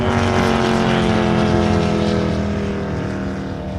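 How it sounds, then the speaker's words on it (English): A fast racing motorboat roars past at a Grafton bridge-to-bridge ski race, its engine a loud, sustained, close howl that eases slightly toward the end. "very loud boat."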